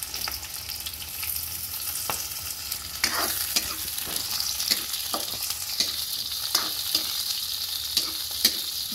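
Onion and garlic sauté in a pan, giving a constant sizzle beneath repeated, fairly regular spatula scrapes and taps that come closer together in the second half.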